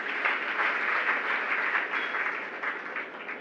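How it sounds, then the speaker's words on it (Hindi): Steady audience applause at a Jain religious discourse, a sustained wash of many hands clapping together, loud and even throughout with no talk over it. "ये क्यों बजाई ताली आपने?"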